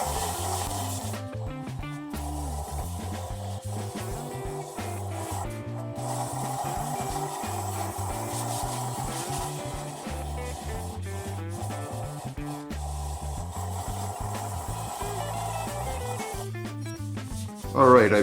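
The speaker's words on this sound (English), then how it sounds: "I'm going to use some shop towel and just spread it on here. I'm going to have it turning at 100 RPM." A shop towel rubs finish into a maple bowl spinning on a lathe at slow speed, giving a steady close scrubbing and rasping with the motor hum beneath, broken by brief pauses.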